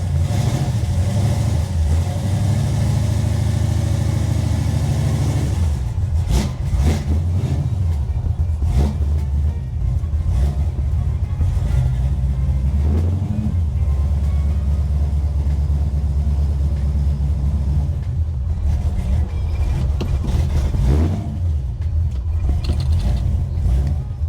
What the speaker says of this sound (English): That's the first crank this car has had in a couple days.